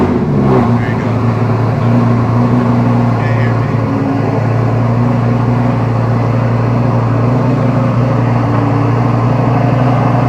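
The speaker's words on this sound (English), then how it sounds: "I love cold starts, they're so freaking loud, especially this has a Quicksilver exhaust on it" A Lamborghini Gallardo with a Quicksilver exhaust idles loudly and steadily after a cold start, its deep droning note close and constant throughout while a voice talks briefly near the start.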